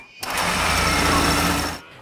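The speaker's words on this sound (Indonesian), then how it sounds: "Namun, suara bor itu membuat bayinya ketakutan." Power drill cutting through the metal wall of a shipping container, a steady loud whirring grind that starts abruptly, holds for about a second and a half, then cuts off.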